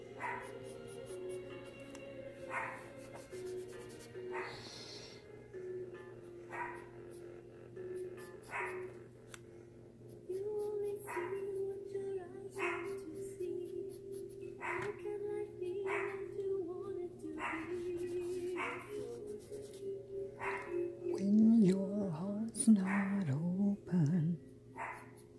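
A dog barks in short repeated bursts roughly every couple of seconds over a steady background hum and music-like tones, with whining or whimpering rising near the end.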